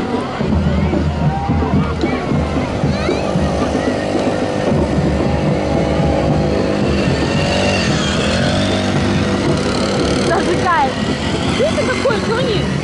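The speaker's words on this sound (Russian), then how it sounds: "Это мотор от газонокосилки." Homemade vehicle powered by a lawnmower engine, driving past with a rough, buzzing small-engine rattle amid street noise, fairly close, while people chatter over it.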